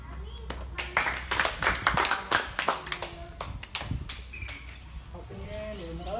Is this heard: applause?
yes